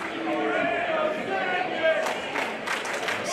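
Wrestling crowd at an Absolute Intense Wrestling match roars steadily for Ziggy Haim after a clothesline from Steph DeLander, a dense wash of cheering voices with a few sharper shouts and claps near the end.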